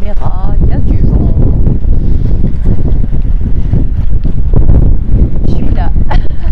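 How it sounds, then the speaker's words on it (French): Gusty wind buffets a camera microphone outdoors, a loud continuous low rumble with bursts of distortion, while someone talks over it throughout. "il y a du vent"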